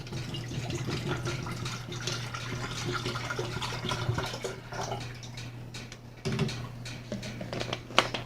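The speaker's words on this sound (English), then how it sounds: "So I'm going to put some Aquafina in here." Bottled Aquafina water pours steadily into a kettle, a continuous close liquid stream with a low hum underneath and a brief splashy surge near the end.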